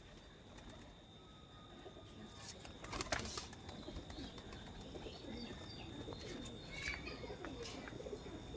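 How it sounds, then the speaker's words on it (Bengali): Pigeons coo softly at a nest site, with brief wing flaps and bird chirps over a steady outdoor background hum, a little louder around the middle. "দেখাই আপনাদেরকে পায়রা"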